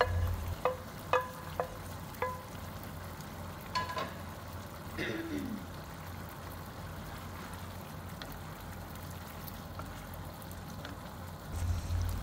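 Mushroom steak sauce sizzling steadily in a pan while a utensil stirs it, with a few sharp scraping clicks early on over the continuous frying hiss.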